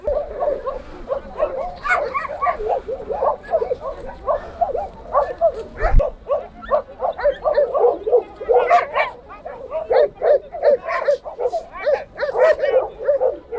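West Siberian Laika dogs at a hunting-dog show in Yakutia bark repeatedly in quick, uneven bursts, some yips and whimpers mixed in, moderately near, with people talking in the background throughout.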